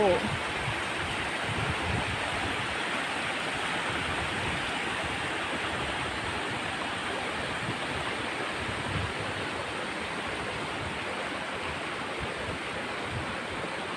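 Floodwater rushes across submerged rice fields and over a road, making a steady, broad hiss of flowing water that holds at an even level throughout.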